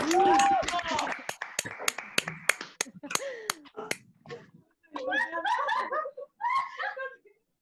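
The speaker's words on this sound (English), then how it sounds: "give yourselves and your fellow graduates a big round of applause" Graduates at an online ceremony clap in sharp, uneven bursts over a call, mixed with overlapping voices and chuckles, and the clapping thins out partway through.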